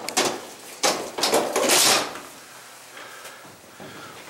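The rear door of an old elevator in a Holyoke, Massachusetts mill slides and rattles in several loud, scraping bursts, then quiets to fainter clunks.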